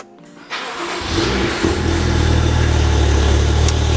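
A car engine cranks and catches, then surges into a loud, rumbling exhaust roar that settles into a strong, steady idle right up close.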